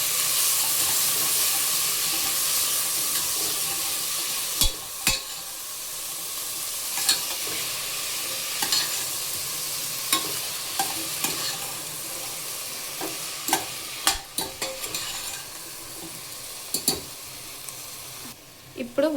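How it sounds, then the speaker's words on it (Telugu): Green chillies with salt and turmeric are stirred in a hot pan, a continuous soft sizzle and hiss broken by sharp scrapes and clinks of the spoon against the metal. "సో ఇప్పుడు తిప్పుకోవాలి."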